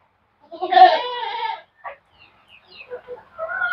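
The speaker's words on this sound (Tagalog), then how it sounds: "Yung kadami yung kambing natin." Goats bleating on a farm, with a loud wavering bleat up close followed by softer, scattered calls further off.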